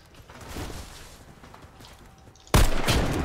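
Gunfire in the video game Warface, with scattered shots through low background noise followed by a sudden loud burst near the end.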